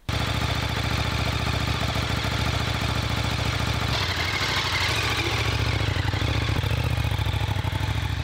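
A motorcycle engine runs continuously and close by, a loud steady idling rumble with a rapid mechanical pulse and clatter, shifting slightly in tone midway through but never stopping.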